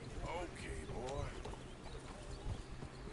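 Horse hooves from the video game Red Dead Redemption 2, a faint clip-clop of a horse moving under a voice talking to the animal.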